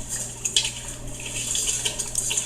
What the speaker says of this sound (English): you continuously stir for 1 minute while it heats up the Certo and mixes with the sugar